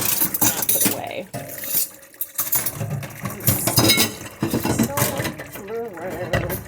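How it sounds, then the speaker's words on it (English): Silverware clinks and rattles against dishes while dishes are washed and put away at a kitchen sink. The clatter comes in repeated close metallic chinks, and someone talks over it. "Just gotta put away all the silverware."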